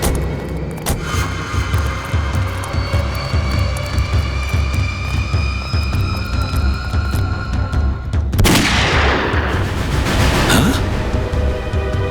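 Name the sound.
gunfire sound effect in a drama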